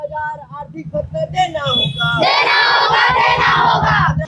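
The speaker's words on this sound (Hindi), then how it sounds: "और आप यहाँ पर देख सकते हैं कि लोगों की भीड़ जो है वो लगातार बढ़ती जा रही है" A loud, close crowd of protesting nursing students in Raipur, Chhattisgarh, shouting together; scattered calls build into a dense, continuous roar of many voices chanting and yelling at once.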